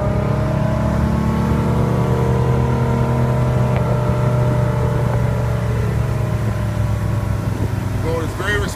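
The rebuilt engine of a 1992 Spectrum 1950 19-foot open bow boat drones loudly and steadily, a low rumbling motor building power as it accelerates from a stop, with a person talking over it.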